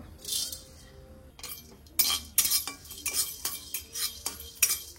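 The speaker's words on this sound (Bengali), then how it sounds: "এখন এই মশলাগুলো দিয়ে দেবো, একটু ভেজে নেব।" Whole garam masala spices and cumin tossed into a hot kadai with a little sugar, bright metallic clinks and scrapes of a spoon stirring in short bursts over a faint, steady sizzle, close and fairly loud.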